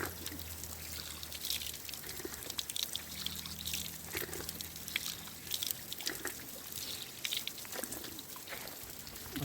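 Spring water trickles and drips near the Tons River on the Himachal border, a faint, continuous patter of small splashes with a low hum underneath early on.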